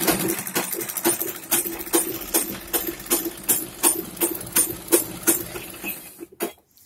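A sewing machine stitching a churidar pajama, a close rhythmic run of regular clacking needle strokes that slows and stops abruptly near the end, no talk.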